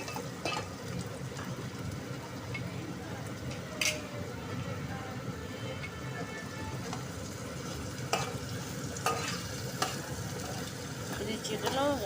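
Onions frying in a pan as the base for a dry chicken curry, a steady close sizzle running throughout with occasional stirring clinks and scrapes; no talk.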